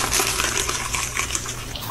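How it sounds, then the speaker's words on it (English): River water flows and splashes in a steady gushing stream, close and fairly loud, with bright trickling detail and no voices. "It's a river!"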